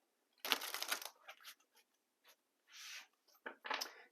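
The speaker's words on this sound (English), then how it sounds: "Let's do some shuffling." Tarot cards from a Gilded deck are shuffled close up in several short crisp bursts of riffling and sliding, separated by brief quiet gaps.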